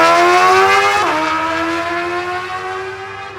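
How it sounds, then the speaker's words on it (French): An orange RC motorcycle pulls away with a loud, close, high-pitched engine, dipping in pitch at a gear change after a second, then climbing again as it slowly recedes. "On va directement partir rouler cette moto."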